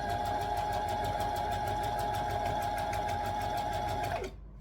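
A sewing machine stitches fabric for a tee in a fast, even mechanical chatter with a steady hum, running continuously for about four seconds before stopping sharply.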